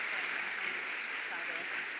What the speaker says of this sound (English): Could we please have a round of applause for Maria and Henry?